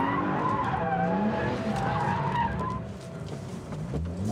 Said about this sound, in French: Ça glisse, ça glisse, ça glisse.